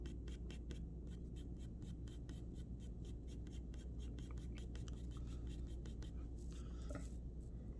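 Faint, soft graphite strokes from a number 2 pencil shading on paper, a quick run of light, evenly spaced scratchy rubs close to the page, nearly lost in a steady background hiss.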